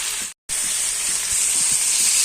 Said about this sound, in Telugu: ఆయిల్లో ఇవన్నీ కూడా ముక్కలన్నీ వేసేయాలి.